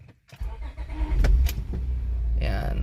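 A 2007 Honda Accord V6 engine cranks and catches, settling into a steady low rumble that stays loud and close, with a voice in the background.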